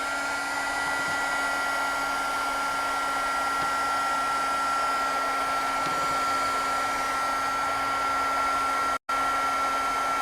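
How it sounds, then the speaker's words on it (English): A heat gun blows hot air onto chalk on an art page, a steady close whooshing drone with a faint whine that runs unbroken apart from one brief cut near the end. "I'm gonna hit it with a heat gun"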